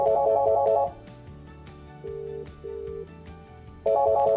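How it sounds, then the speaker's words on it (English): A Polycom VVX 411 desk phone plays a ringback tone while another extension rings: two steady, even tone bursts in the middle, between louder chiming tonal passages at the start and end. "you can hear the other extension ringing"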